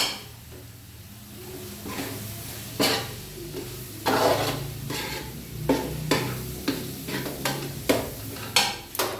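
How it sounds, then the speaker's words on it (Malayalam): Chicken curry being stirred in a pan after a little fenugreek powder goes in: a quiet sizzle beneath repeated scraping strokes of a spoon against the metal, irregular knocks and scrapes coming close together. "ഇനി നമുക്കത് നന്നായിട്ട് ഒന്ന് ഇളക്കി കൊടുക്കാം."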